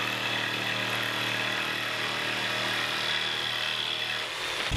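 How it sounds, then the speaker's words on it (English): A jigsaw cutting an arc in wood buzzes steadily and loudly at close range for several seconds, a continuous cutting whine that winds down at the end. "I'll just use my jigsaw to cut out that arc."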